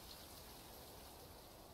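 Steady rain falls in a video game, an even hiss of many drops that stays constant and fills the whole stretch, with no talk.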